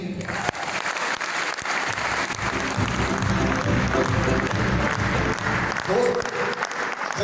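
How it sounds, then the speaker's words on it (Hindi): Audience at a company business seminar bursts into sustained, loud applause, dense clapping filling the whole stretch alone with a brief sharp hit near the start. "साथी तालियां जबरदस्त बजाते हैं"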